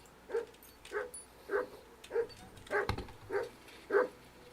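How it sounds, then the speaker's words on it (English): Dog barking in the video game Kingdom Come Deliverance 2, a series of seven evenly spaced, moderate barks or yelps at about one every 0.6 seconds, heard alone with no talk. "Good dog, Rosa."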